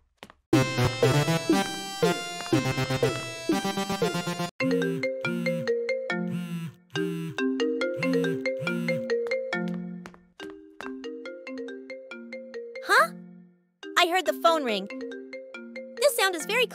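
A phone ringtone from a call in the Roblox video game plays a loud, bright, repeating melodic tune in steady phrases, with brief pauses between them and a voice speaking partway through.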